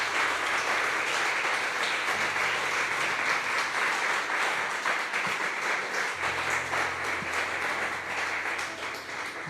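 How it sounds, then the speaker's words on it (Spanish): A church congregation gives a strong round of applause, steady dense clapping at even loudness throughout, with faint voices mixed in beneath. "Démosle un aplauso fuerte a nuestro Señor."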